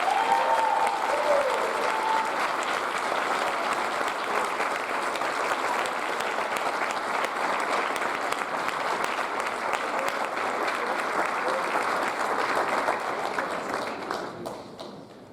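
Sustained applause from an audience at a high school awards ceremony, a dense, even patter of many hands clapping that holds steady for a long stretch before tapering off near the end.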